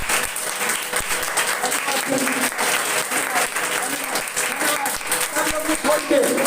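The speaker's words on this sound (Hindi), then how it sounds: "जोर से ताली बजाएंगे।" A church congregation clapping loudly during a preaching service, dense continuous applause filling the whole stretch with voices mixed in.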